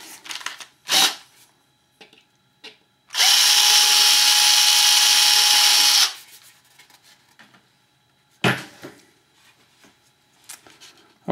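A power drill cleans up previously drilled holes in a rotor mast with one loud, steady burst of about three seconds, set between brief clicks and handling knocks of tools on the workpiece.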